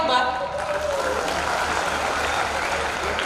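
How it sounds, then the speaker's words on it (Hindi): A crowd at a Hindi kavi sammelan poetry recital bursts into sustained applause, a dense even clatter of many hands that holds steady, with a voice briefly audible at the start. "ताली बजाओ एक बार"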